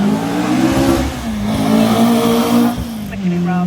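A rally car powers hard out of a corner at the Prescott hillclimb, its engine note rising and falling through gear changes as the tyres scrabble for grip. It is loud and close, with a voice talking over it.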